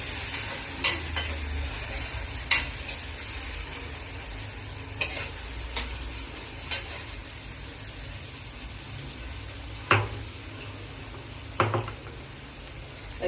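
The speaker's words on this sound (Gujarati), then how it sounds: "બટેકા આછા પાતળા ચડી જાય તેલમાં ફ્રાય કરી" Potatoes fry in oil for a ridge gourd and potato curry, a soft continuous sizzle with a few scattered knocks and scrapes of stirring against the pan.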